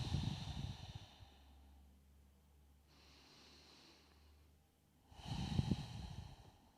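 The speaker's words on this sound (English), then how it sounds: "Breathing deeply in and out through the nose." Deep yoga breathing in and out through the nose: a close, airy inhale at the start, a long quiet stretch with faint low hum, then another strong breath near the end.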